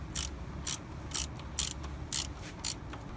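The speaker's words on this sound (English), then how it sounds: "I have to make sure the ratchet is in the right place too" Rhythmic ratchet clicks, about six short bursts spaced roughly half a second apart, from a hand ratchet tightening bolts on the thermostat housing of a 2003-2007 Honda Accord engine, heard up close over a low steady background hum.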